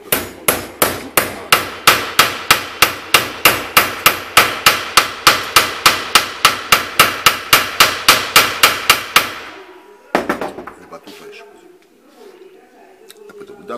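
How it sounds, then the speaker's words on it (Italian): A hammer beats a metal fork flat for jewellery, loud and close, with about two dozen evenly spaced ringing blows in quick rhythm, then a pause and one last sharp strike followed by quieter handling. "si comincia a battere la forchetta, a battere la forchetta con il martello"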